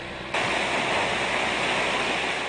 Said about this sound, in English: There was enough water coming out to knock over a tree